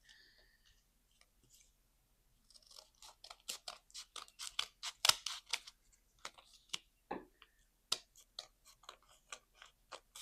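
Scissors crunching through a thick stack of craft paper for handmade Christmas decor, giving a run of close, sharp snips and crunches after a quiet start, with no one speaking.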